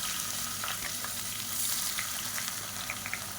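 Steady oily sizzling of sliced onions frying in a pan for mutton biryani, with a few soft clicks and stirring scrapes near the microphone; no voices.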